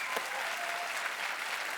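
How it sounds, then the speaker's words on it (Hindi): A studio audience on a TV comedy show breaks into brief, lively applause, a close burst of clapping with no speech. "सोनाक्षी का जोरदार तालियों से स्वागत एक बार"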